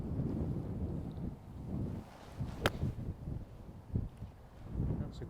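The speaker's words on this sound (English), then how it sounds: "tough to get to control this one with this wind, but Chris has just gone long" Wind gusting across an outdoor golf course, a low rumbling rush that swells and fades in uneven gusts, with a brief sharp click partway through.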